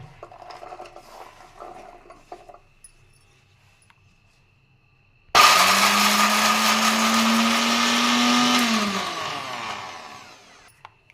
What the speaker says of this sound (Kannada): ಇವಾಗ ಇದ್ರ ಜೊತೆಗೆ ಜೋಳ ಹಾಕ್ಬಿಟ್ಟು ರುಬ್ತೀನಿ ಇನ್ನೊಂದ್ಸಲಿ